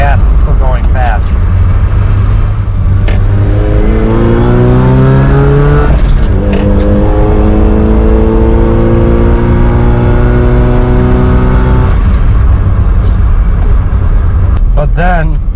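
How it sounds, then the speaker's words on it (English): Datsun 210 engine running loud and close at a raised high idle without throttle, a steady drone whose pitch climbs and settles in waves, with someone talking over it. "right now it's doing that high idle thing because I'm not pressing the gas"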